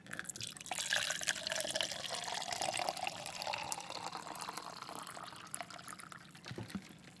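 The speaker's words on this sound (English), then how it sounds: "I will pour the glass now." Water poured from a pitcher into a glass, a soft, steady trickling stream heard close and fairly quiet, with light splashes toward the end.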